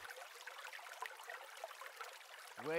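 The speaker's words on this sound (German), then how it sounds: "Ich stehe hier im Fluss." Shallow river water streams and trickles steadily around a person standing in it, a close, even broadband rush that carries through the whole stretch, with a brief voiced sound near the end.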